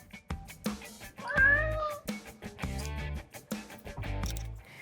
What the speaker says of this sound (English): my cat just walked by